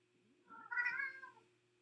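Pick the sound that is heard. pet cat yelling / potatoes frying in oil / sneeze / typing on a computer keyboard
pet cat yelling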